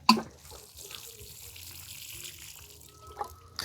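Water pours from a tap, as at a home where rice is being steamed, a low steady trickle running throughout with a brief clatter at the start and a faint clink near the end.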